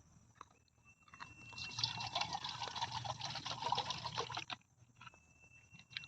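Water poured to rinse bok flowers: a soft, faint trickling and splashing stream lasting a few seconds amid quiet background, with small drips before and after.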